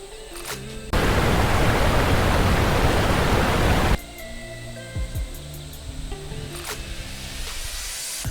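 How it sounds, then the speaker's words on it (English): Water sheets off sleepers on a newly built round deck at a rock silo, a loud steady rush for about three seconds that cuts off abruptly, followed by quieter knocks and drips. "Water, watch, it's just gonna run right off."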